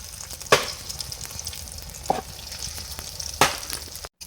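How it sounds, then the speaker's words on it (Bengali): An egg fries in hot oil in a kadai with a steady, close sizzle, broken by three sharp clinks or scrapes of a utensil pushing it around. "এবার আমি কড়াই দিয়ে ডিমটা ভেজে নেবো"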